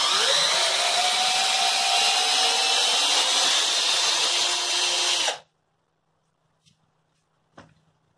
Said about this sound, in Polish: Żeby test był pełny, jeszcze wykręcimy ten wkręt.